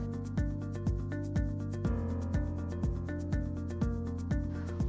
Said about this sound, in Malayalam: ഒരു ഫോർക്ക് ഉപയോഗിച്ച് ഇതുപോലെ മിക്സ് ചെയ്തെടുക്കുകയാണെങ്കിൽ ഈ മസാലക്കൂട്ട് നൂഡിൽസിൻ്റെ എല്ലാ ഭാഗത്തും നന്നായിട്ട് പിടിച്ചോളും.